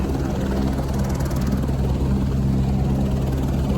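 A helicopter at the Kedarnath base camp drones loud and close, its low rotor throb pulsing steadily throughout with no pauses.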